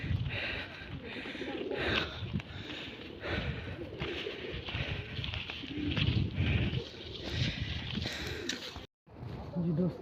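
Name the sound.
pigeons cooing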